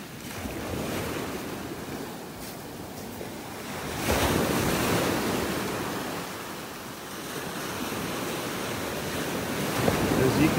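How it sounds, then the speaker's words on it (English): Ocean waves break and wash continuously onto a beach in North Naples, Florida, surging louder in swells, with wind buffeting the microphone throughout. "As you can see, these waves are taking their toll on our beach."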